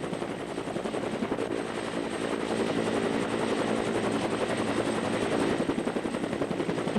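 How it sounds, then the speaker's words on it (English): Apache helicopter of the South Carolina National Guard in flight over hurricane damage, its rotor and engine roar steady and loud throughout with a rapid blade chop and no talk. "we're looking at unedited footage taken yesterday aboard Apache helicopter of the South Carolina National Guard with Governor Carroll Campbell"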